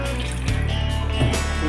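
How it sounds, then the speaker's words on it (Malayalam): Fish being washed under running water at a kitchen sink, a steady close stream splashing with a brief shift in flow partway through, no voices. "നല്ലപോലെ കഴുകി വൃത്തിയാക്കണം."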